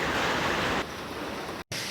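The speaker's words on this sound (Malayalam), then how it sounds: "നല്ല മഴയാണ്." Heavy rain pounding on solar panels, a dense, loud hiss that drops a little partway through and cuts out for a split second near the end before returning.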